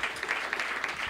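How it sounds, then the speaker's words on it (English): A church congregation claps for its staff at a Sunday service, a steady dense round of applause that stays loud and even for the whole moment with no talking over it. "round of applause for our staff."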